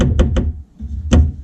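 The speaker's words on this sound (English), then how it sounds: "this block here is rattling against the door" A hard plastic block inside the door of an R35 Nissan GTR rattles against the door panel, giving sharp knocks: two quick taps, a short pause, then a louder single knock over a low background rumble.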